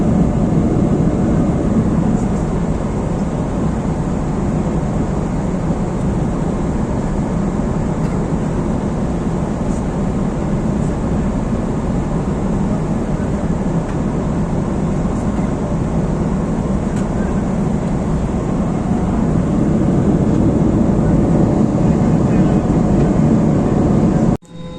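Steady, loud broadband roar of an airliner cabin in cruise as the plane alters course northward to the left, a continuous low rumble and hiss with no break and no voices.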